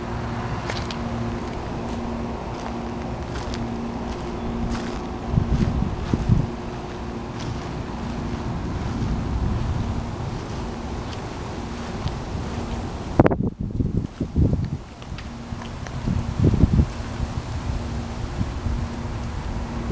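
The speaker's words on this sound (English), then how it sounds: "Really getting windy out here." Wind blows steadily outdoors in a low, rushing roar, with stronger gusts thumping against the microphone now and then.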